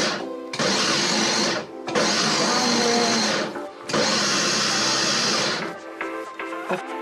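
Electric hand mixer whirring steadily in three long bursts with short pauses between, beating cream in a home kitchen; loud and close, with a motor hum and a faint clatter after it stops.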